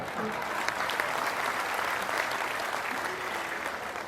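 Audience applause at a Hindi poetry recital (kavi sammelan), a steady dense patter of clapping from a sizable crowd lasting the whole span at moderate level, with a faint voice in the background.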